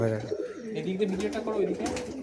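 Kaldam pigeon among a home flock of Giribaz pigeons, giving low, throaty cooing phrases that rise and fall for a couple of seconds, close by, with voices nearby.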